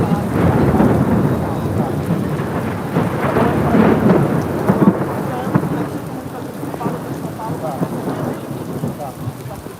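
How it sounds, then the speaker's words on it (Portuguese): Heavy rain pours during a street demonstration on Avenida Paulista in São Paulo, with rumbling thunder rolling underneath, a dense, loud, continuous downpour close by and steady across the whole stretch. "mas agora a chuva mirou em mim aqui, ó"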